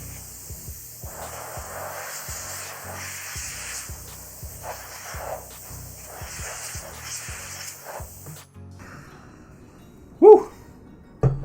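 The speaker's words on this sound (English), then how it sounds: "let's go ahead and start by taking our canned air" Canned air sprays in repeated short hissing bursts while cleaning dust out of a PS4, each burst close and sharp, with brief pauses between and quiet handling after the spraying stops.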